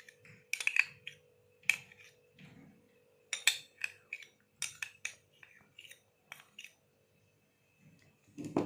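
Spoon clinks and scrapes against a bowl while mayonnaise and mustard sauce are stirred into chicken, in short irregular bursts with quiet gaps.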